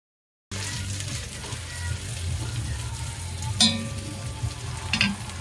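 A Cornish hen sizzles and bubbles steadily in deep oil heated to 350 degrees, a continuous close frying crackle with a couple of sharper pops and a brief clink partway through.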